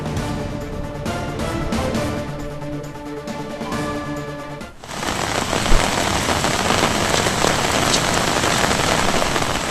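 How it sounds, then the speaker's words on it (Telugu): Heavy rain pours down in a dense, loud, continuous roar of drops. It follows a short stretch of tonal background sound. "ఆంధ్రప్రదేశ్లో వర్షాలు దంచి కొడుతున్నాయి"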